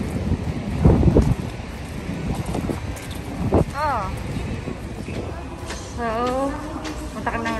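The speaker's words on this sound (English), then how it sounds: "Oh, it's very windy too." Gusty wind at Niagara Falls, Ontario buffets the microphone with a steady roar while people talk nearby, with a few brief whistling tones in the background.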